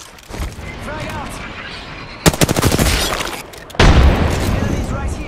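A frag grenade explodes in Apex Legends with a loud, sharp blast, then a second heavy boom follows, set among rapid gunfire and game noise, with a brief spoken callout at the start.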